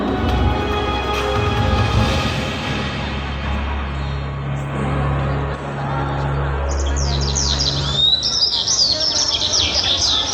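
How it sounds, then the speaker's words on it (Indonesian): Birds chirp and twitter over a busy background murmur at a kindergarten drama performance, with a burst of quick high tweets standing out toward the end. "Suara burung berkicau meriuhkan suasana pagi yang cerah."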